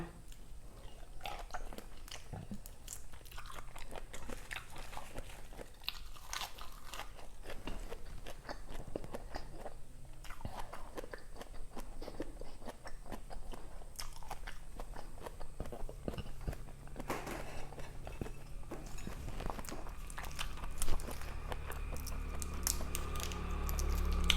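Raw river prawns being bitten and chewed up close, a long run of soft, wet crunching and smacking bites in an uneven rhythm, fairly quiet with no talk.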